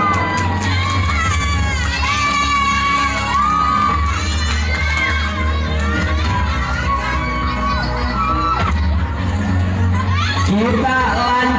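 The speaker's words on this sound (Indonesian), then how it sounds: "Kita sambut dulu tepuk tangannya." A crowd of children at a pesantren event cheers, shouts and claps loudly and continuously, with lively excited voices filling the space throughout.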